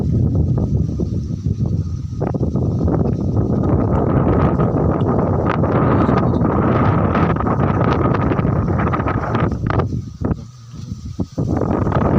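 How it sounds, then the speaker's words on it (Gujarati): Strong gusting wind roars and buffets the microphone almost nonstop during a heavy first monsoon rain on a village farm, loud and close, easing briefly near the end, with no voices. "પવન બહુ છે."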